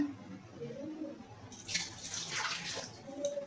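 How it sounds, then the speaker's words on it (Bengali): Water poured into a pot of cooked rice being readied for a Bengali Ranna Puja offering; a soft splashing pour rises midway and runs for a couple of seconds over a quiet room hum. "ভাতে জল দেওয়া হচ্ছে"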